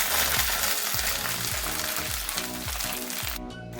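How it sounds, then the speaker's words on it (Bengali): Chopped ginger and tomato fry steadily in a hot pan, giving a dense, continuous sizzle at close range. Stirring strokes come through faintly, and the sizzle drops away at the very end. "আমাদের আদাটা ভাজা ভাজা হয়ে এসছে"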